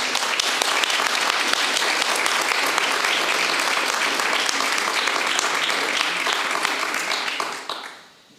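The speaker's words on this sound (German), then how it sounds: "Jetzt können wir noch einmal alle unsere Gäste herzlich willkommen heißen mit einem Applaus." Sustained audience applause welcoming guests to a literary criticism panel discussion at a festival event, a dense steady roar of many hands clapping that fades out at the end.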